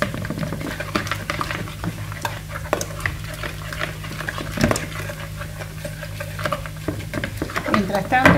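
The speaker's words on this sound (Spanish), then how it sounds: "Hacemos así, batimos." Flour batter for a savoury cherry tomato and feta tart is whisked by hand, a fast continuous scraping patter that carries on without pause under a faint background hum.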